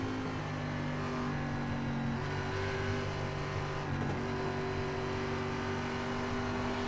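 A race car engine in the iRacing game on the Mexico City oval, held at a loud, steady drone with a gear shift and brief dip partway through, and no talk over it.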